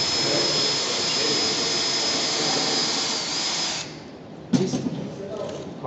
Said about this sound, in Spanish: hacemos la perforación para nuestro primer tornillo